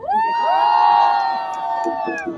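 Crowd at a May Day workers' rally outside City Hall cheering and whooping loudly, with shouts rising over a sustained roar that tapers slightly toward the end.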